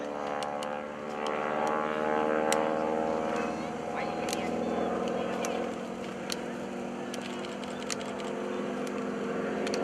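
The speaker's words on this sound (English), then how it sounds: "Going to bring the airplane around" A propeller airplane drones loudly and steadily overhead at the 2013 Greenwood Lake Airshow, its engine tone swelling slightly as it passes, with faint voices in the background.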